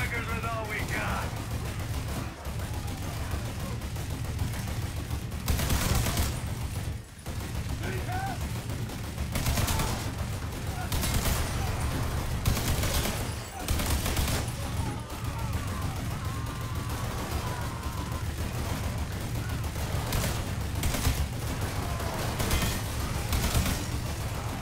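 Heavy gunfire in the Mafia III mission Big Money: repeated loud bursts of automatic weapons and shots crack over a dense battle din, with a radio-style voice briefly heard amid the fighting.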